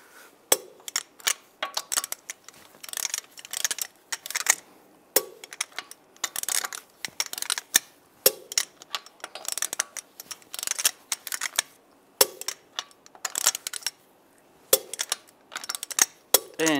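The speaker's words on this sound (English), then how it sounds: "Now we're going to torque the lug bolts to 89 foot-pounds in a cross pattern to tighten the wheel down evenly." A torque wrench works wheel lug bolts on a 1999-2005 Volkswagen Jetta in a cross pattern, giving repeated sharp metallic clicks and ratcheting in irregular clusters, close and crisp, with no talking.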